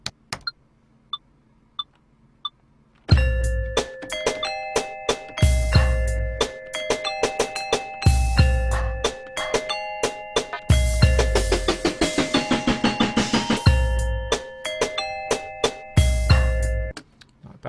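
Layered synthesized bell tones from BTV Solo music production software play a rhythmic melodic pattern with sustained ringing harmonics and a pulsing beat underneath, loud and steady after a few quiet opening clicks.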